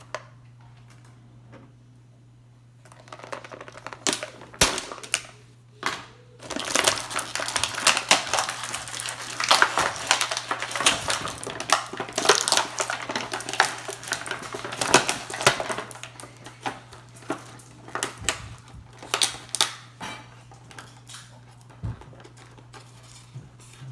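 Plastic blister packaging of a Super7 Masters of the Universe action figure is pried open, giving close crinkling, clicking and tapping bursts over a steady low hum, no talk.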